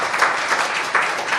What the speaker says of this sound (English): Standing applause is appropriate.